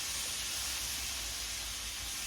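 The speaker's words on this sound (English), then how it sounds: "We got a good sizzle going," Cauliflower and lentil curry sizzles steadily in a pan, a dense, even hiss of frying with no break and no voices.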